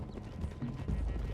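Horses galloping in Red Dead Redemption 2, a steady drumming of hooves at close range under a continuous low rumble, with no pauses across the short stretch.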